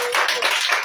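A prayer-meeting congregation bursts into a short, dense round of many hands clapping together to acclaim Jesus, loud and close.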